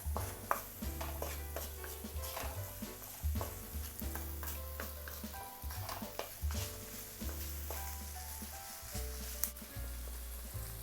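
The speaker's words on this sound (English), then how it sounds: "Just continue whisking that around." A whisk works a sauce around a pan in quick repeated strokes, giving faint rhythmic clinks and scraping over a low steady hum, with no talking.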